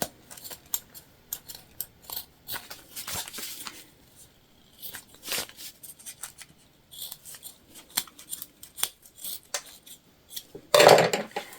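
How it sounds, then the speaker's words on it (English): Scissors snip and rustle as zippers are trimmed while sewing a small hip bag, a close run of scattered crisp cuts and fabric handling with brief pauses, ending in one louder burst of rustling. "We're just going to trim our zippers."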